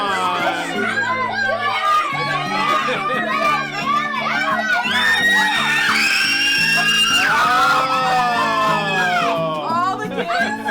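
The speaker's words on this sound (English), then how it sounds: "All the kids scream." A crowd of children on an Idaho homestead screams and shrieks continuously and loudly with overlapping high-pitched voices, excited chatter mixed in throughout.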